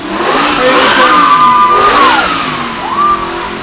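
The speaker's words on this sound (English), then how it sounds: "Oh, we have this Mini here, which is making all the noise." A Mini's engine revs hard at a car festival, rising and falling in pitch through two distinct pulls, close and loud over a low outdoor background.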